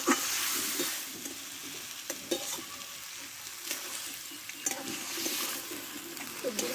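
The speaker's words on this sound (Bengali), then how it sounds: "এবার পরিমাণ মতো আমি জলটা দিয়ে দেবো" Amaranth stems cooked with spices in a frying pan, with water poured in, give a steady sizzle and bubbling hiss and a few stirring scrapes, close and fairly quiet throughout.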